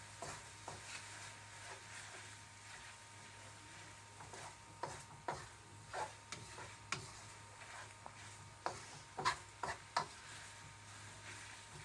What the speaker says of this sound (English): Making sure I stir this all around, especially because I want the meat and the egg to get intertwined with the noodles